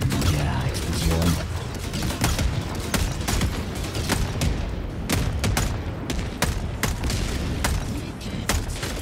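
Explosions and gunfire in the video game Helldivers 2: dense, continuous battle noise with sharp repeated shots and heavy booms layered throughout, loud and close, with a voice briefly audible.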